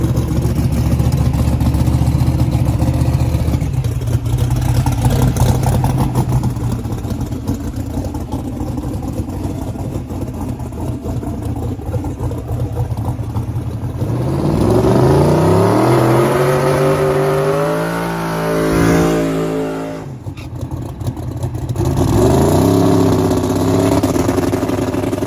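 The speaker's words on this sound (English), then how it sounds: "So we went up to make our first pass on my buddy's Mustang" A turbocharged Mustang making a drag racing pass, its engine roaring loud and close with rising revs and shifts, dipping briefly before pulling hard again.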